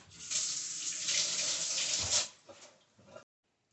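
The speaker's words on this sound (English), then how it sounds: "Wash my hands." Hands are washed under a kitchen tap while sauerkraut is being made, a steady close hiss of running water with a splashy break before it shuts off.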